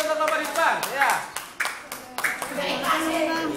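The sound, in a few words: classroom applause for a presenting group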